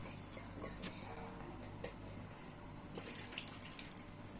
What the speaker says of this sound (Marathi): मी दोन ते तीन पाण्यातून स्वच्छ धुवून घेते